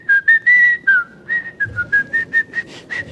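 A man whistles a short, playful tune with his mouth, imitating someone whistling carelessly while performing ablution before prayer; a string of clear, close, loud whistled notes with a wavering melody, ending in quick choppy bursts.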